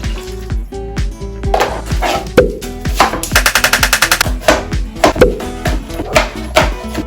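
A knife thinly slices ingredients for pasta on a cutting board, a loud close series of sharp chops in an irregular rhythm with a quick rapid burst in the middle.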